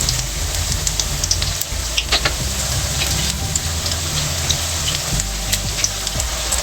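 Corn pakoras fry in hot oil with a constant crackling, rain-like sizzle and scattered sharper pops over a low background hum, close by and without talk.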